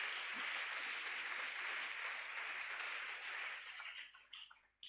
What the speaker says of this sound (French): Acclame pour le Seigneur Jésus.